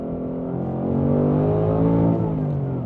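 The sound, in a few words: Ford Mustang Dark Horse accelerating and spinning tires in second gear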